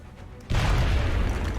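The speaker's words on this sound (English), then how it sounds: "What a terrific grenade." A grenade explosion in the XCOM Long War game bursts in suddenly after a quiet moment, a loud, close boom that rolls on as a dense, sustained rumble.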